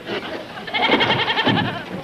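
A goat gives a loud, close bleat, wavering and nasal, after a brief softer sound at the start.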